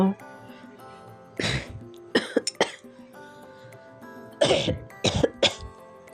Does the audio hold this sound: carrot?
no